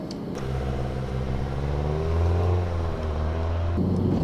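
A racing car pulls away on a circuit in first gear, the engine note rising steadily in a loud, close drone with a gear change near the end.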